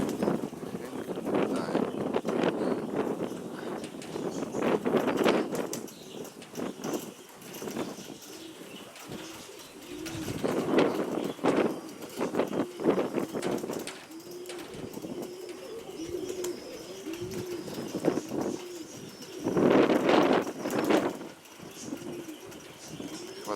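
Nikolaev pigeons coo in low, repeated rolling bursts close by, with wing flutters and scattered chirps, while people talk quietly in the background throughout.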